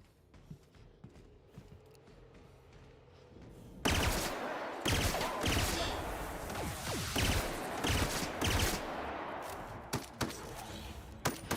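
Pistol gunfire in the video game The Outer Worlds: a quiet stretch, then a loud burst of sharp, rapid shots with ongoing action noise and no talking.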